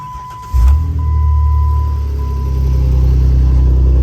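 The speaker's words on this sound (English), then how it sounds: "I want to start it up because it does have an aftermarket muffler" A 2010 Jeep Wrangler with a 3.8 engine and an aftermarket muffler cranks and fires after a brief quiet moment, then settles into a loud, steady, throaty idle close by.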